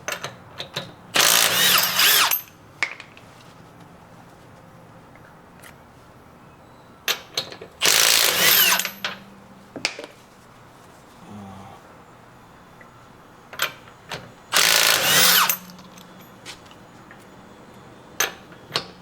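Power tool zips lug nuts off a 2021 Honda Ridgeline wheel in three loud, sharp bursts about six seconds apart, with faint clicks and handling noises between them.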